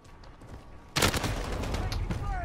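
Shooter-game gunfire opening up abruptly about a second in as a loud, sustained burst of rapid shots after a quieter stretch, with a voice speaking in the background.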